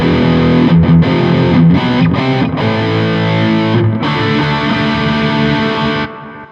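Blackstar HT DISTX pedal's Gemini distortion on its red side, tone at noon and drive at full, on electric guitar: loud, saturated chords ring steadily for about six seconds with brief gaps between strums, then cut off, with no talking.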